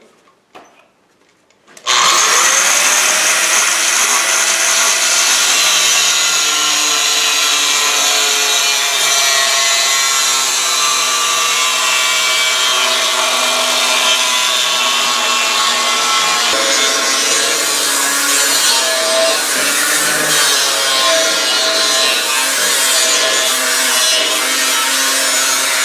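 A power tool cuts through the top of a steel quench tank during a build, a loud continuous grinding whine with shifting metallic tones that runs steadily for over twenty seconds after a brief quiet start.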